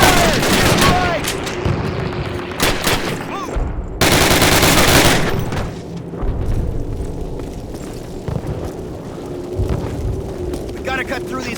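Heavy gunfire and automatic weapon bursts from the first Call of Duty's American campaign, loud and sustained with sharp cracks and booms throughout, while soldiers shout orders over the battle.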